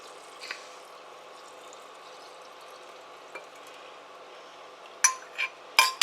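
Hot brine of dissolved sugar and salt pours into glass jars packed with dill pickles and onions, making a faint, steady sizzling trickle. A few sharp glassy clinks land near the end.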